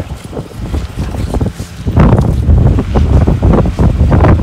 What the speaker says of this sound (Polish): wiatr mnie sam przesuwa, nie?